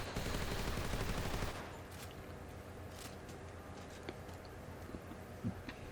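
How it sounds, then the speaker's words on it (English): An AK rifle fires in Metal Gear Solid Delta: Snake Eater, a rapid burst of automatic gunfire that cuts off after about a second and a half, followed by quiet ambience with scattered faint impacts and steps. "Or you can just pull out your AK and just go to town on them."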